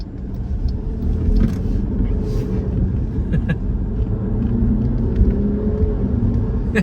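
A Jeep Grand Cherokee 4xe rolls through a turn, its steady low road and engine rumble close and constant throughout, with faint scattered clicks and no talk.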